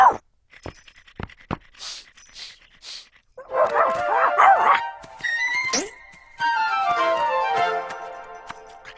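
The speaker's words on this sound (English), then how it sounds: "Stop it, Bumpy Dog!" A cartoon dog yips, barks and whimpers in short, close bursts after a few sharp clicks, its high, wavering whines rising and falling in the animated scene.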